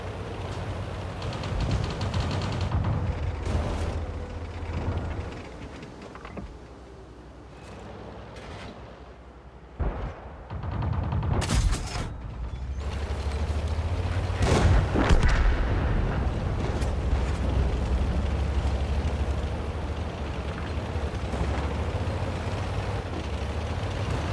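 Tank guns boom in World of Tanks, heavy shots ringing out one at a time against a low engine rumble, some close and loud, others softer, spread across a running battle.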